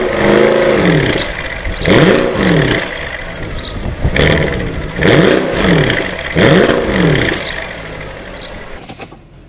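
Mercedes SL63 AMG with a naturally aspirated 6.2 V8 revving hard in a series of about five sharp, rising blips with brief drops between, loud and close, no talk.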